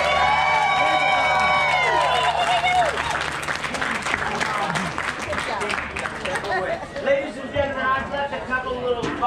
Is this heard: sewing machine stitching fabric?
no